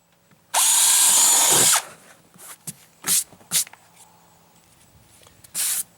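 A power drill whirs loudly through wood for just over a second while drilling holes for a homemade trapping basket, then a few short clunks and brief drill bursts follow with quiet gaps.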